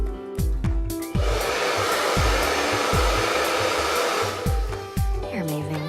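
A Buttercup professional hair dryer blows in a loud, steady, close whoosh, broken by several brief switch clicks and shifts in airflow.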